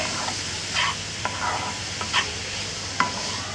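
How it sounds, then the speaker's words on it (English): Chopped white onions sizzle in oil as a spoon stirs them, a soft constant frying hiss broken by several light scraping strokes against the pan, close and without voices. "add in the onions, white onions chopped. So I'm going to give it a quick mix."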